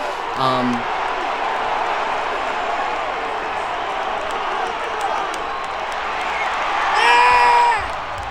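Hockey arena crowd roaring steadily as Kovacevic and Foligno drop the gloves and fight in a Devils game in Minnesota, a dense continuous cheer with whoops, swelling louder near the end.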